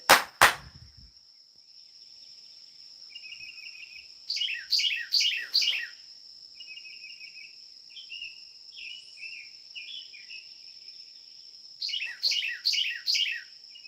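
Bursts of rapid, bright bird chirps repeat in short volleys against a steady high insect-like whine, with softer twittering between the loud bursts.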